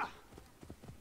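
Horse hooves clip-clop at a walk in Assassin's Creed Origins, a quick run of soft, muffled thuds heard faintly over a steady background hum.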